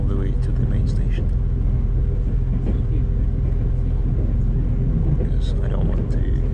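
A train travelling from Hualien to Taipei gives off a steady, loud interior rumble with a deep low drone throughout, and faint voices murmur in the background.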